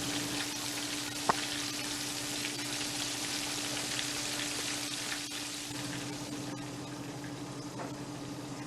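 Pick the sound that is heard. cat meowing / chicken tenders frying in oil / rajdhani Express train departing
chicken tenders frying in oil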